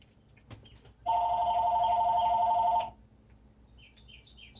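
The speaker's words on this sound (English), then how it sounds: "There goes the phone." An electronic phone ring sounds once for about two seconds, loud and steady, amid quiet background with a faint chirp afterward.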